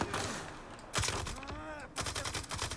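Gunfire in STALKER 2: bursts of shots in three dense clusters, with a moment of quieter room tone between them. Loud and close.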